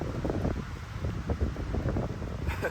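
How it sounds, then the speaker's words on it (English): Strong gusting wind buffets the microphone at a cold, rainy campsite on a canoe trip in Algonquin, a loud continuous roar with rumbling low-end bursts and no voices. "it's crazy windy, keeps raining, and it's very cold."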